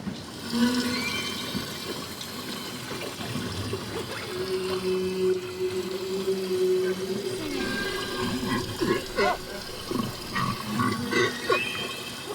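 Long, moaning humpback whale song rises and falls, heard underwater through a boat's hull, muffled and resonant, over a constant watery wash and hull noise.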